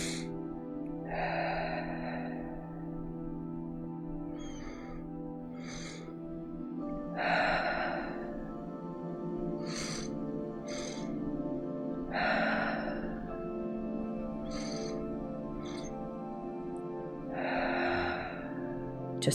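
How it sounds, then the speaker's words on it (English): Slow, deliberate breath work pattern during a stillness meditation, with repeated audible inhales and exhales spaced a few seconds apart over a soft sustained musical drone. "And continuing with this breathing pattern."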